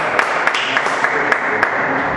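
A church congregation applauds at the close of a worship service: dense, steady clapping from many hands fills the room, with a few sharper claps standing out.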